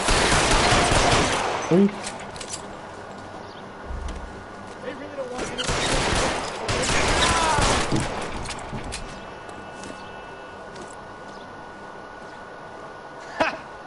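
Gunfire in L.A. Noire comes in dense bursts of rapid shots, loud and close, early on and again in the middle, then fades to quieter sounds with a last sharp crack near the end while a voice talks throughout.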